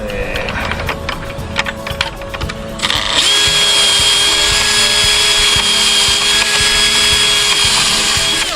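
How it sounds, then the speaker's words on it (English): A power drill pre-drilling timber while repairing a dropped gate, whining steadily and then rising to a louder sustained run as it bites into the wood, close and loud. "we're going to pre-drill it"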